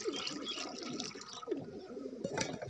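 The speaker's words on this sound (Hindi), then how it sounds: "ये 2 किलो पानी मैं इसमें डाल रहा हूँ" About two kilos of water poured into a mixture of ingredients, a faint, continuous splashing and gurgling pour with slight swells.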